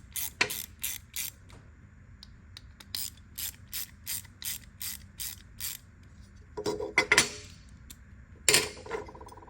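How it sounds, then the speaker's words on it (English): A ratchet driver loosens the T20 screws holding the DRL board on a BMW G87 M2, a quick series of close, crisp clicks in steady runs, then a few heavier clunks of metal parts being handled. "This board has two T20 screws that we need to remove to get the old board off."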